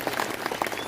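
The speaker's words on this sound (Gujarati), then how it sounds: "એકવાર જોરદાર તાળીઓ સ્વરૂપજી માટે" A political rally crowd claps for a newly honoured leader, a short, dense burst of applause with scattered individual claps, heard at moderate distance for under a second.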